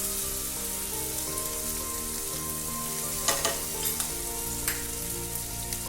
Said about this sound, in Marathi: जिरं मोहरी घातली ती पण आता छान तडतडते आहे